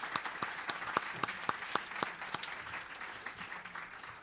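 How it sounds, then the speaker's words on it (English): An audience at a press club summit applauds its panelists, moderate and steady clapping with a few sharper claps early that thins out toward the end. "Let's give a round of applause for our panelists."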